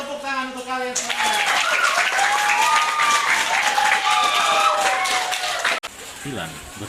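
Students applaud in a classroom after a lesson, a thick burst of clapping that starts after a brief moment of talk and carries on steadily for several seconds, with a few voices audible through it before it cuts off near the end.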